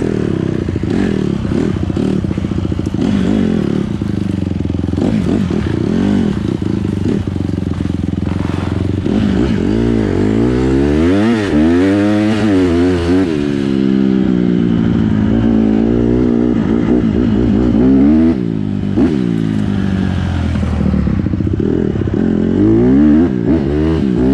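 A dirt bike on wide woodland trails revs and climbs through the gears, its loud engine rising and falling in pitch with some clatter and scraping as it rides, close and continuous throughout.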